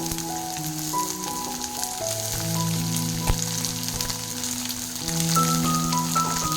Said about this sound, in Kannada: ಈರುಳ್ಳಿ ಹಾಕೊಂಡು ಅದು ಚೆನ್ನಾಗಿ ಫ್ರೈ ಆಗಬೇಕು.